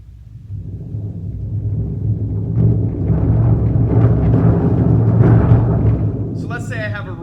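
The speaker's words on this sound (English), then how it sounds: "You do a single stroke roll," A bass drum played with mallets near the edge in a single stroke roll, a low rumbling wash that builds from soft to full and holds steady, ending with a brief voice.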